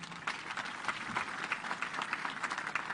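Steady applause from an audience at a KDF Day military celebration, dense overlapping claps running evenly throughout at moderate distance, with no talk over it.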